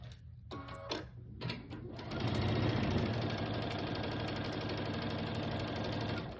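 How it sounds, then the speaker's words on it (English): A sewing machine stitches down the side of fabric pieces for a pumpkin fall door hanger. A few seconds of start-stop handling come first, then a steady, close, fast mechanical whir runs on without talk. "And then I'm going to sew this down this side,"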